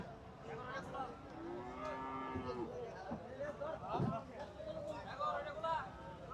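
Cattle moo loudly at a weekly livestock market in Bangladesh while being untied and unloaded from a pickup truck, several drawn-out calls over crowd chatter and voices.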